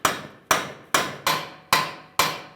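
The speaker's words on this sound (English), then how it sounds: "So I'm using a chisel, cold chisel in between the pinch area." A hammer strikes a cold chisel wedged into the pinch area of a front strut knuckle on a 2000-2007 Ford Taurus, six loud, ringing metallic blows at a steady, close rhythm with no talking.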